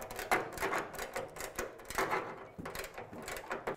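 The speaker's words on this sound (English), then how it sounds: "your best bet is to have a ratcheting wrench" Ratcheting wrench turning hood bolts on a car, a quick clicking pawl rattle in uneven bursts, close and moderately quiet, with no talking.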